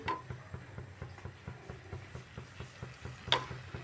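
Boiled potatoes being stirred into a thin gravy: rhythmic scraping stir strokes repeat steadily about four times a second over a faint sizzle, close and quiet, with a sharper clink near the end.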